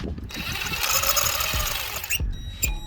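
A power drill whirs in short high-pitched bursts, snugging spark plugs into a 2014-2019 Chevy Impala, with brief clicks and pauses between runs.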